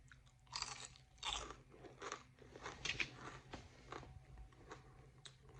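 Bacon coated in Cinnamon Toast Crunch is bitten and chewed close to the mic, giving a series of crisp, irregular crunches and crackles over several seconds.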